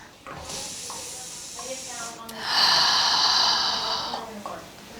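Slow, deep breathing in restorative yoga stillness: two long, soft, airy breaths drawn close to the listener, the second fuller and hissier.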